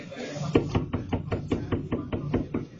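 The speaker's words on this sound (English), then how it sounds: "Then a series of knocks can be heard." A quick run of about a dozen evenly spaced, moderately loud knocks sounds inside a gas station, each one a short dull thud.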